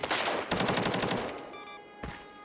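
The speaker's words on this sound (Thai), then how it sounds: "โรงพยาบาลเหมือนจะมาว่ะได้ยินเสียงปืน" A rapid burst of automatic gunfire in the video game Arena Breakout, followed by a ringing tone and another sharp shot, loud and close with no talking.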